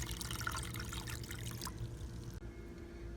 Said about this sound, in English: I can add a little bit water.